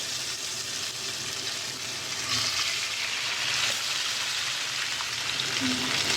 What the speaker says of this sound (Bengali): এবার আমি ফ্রাই প্যানে মাছটা একে একে দিয়ে ভেজে নেব।